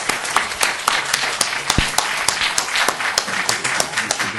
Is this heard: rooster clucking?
no